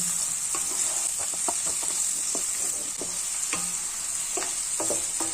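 Prawn fried rice sizzles steadily in a pan while a utensil scrapes and stirs it in irregular knocks and scuffs over a constant frying hiss, close and fairly loud, with no voices.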